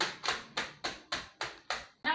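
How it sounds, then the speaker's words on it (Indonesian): Classroom clapping in an Indonesian school lesson, about eight even, fairly close hand claps in a quick steady rhythm. "Ayo beri tepuk tangan dulu."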